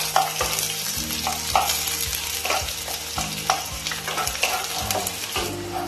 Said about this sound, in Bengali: এখানে দুখানা পেঁয়াজ কেটে রেখেছিলাম, সেটা ভেজে নেব তেলের মধ্যে।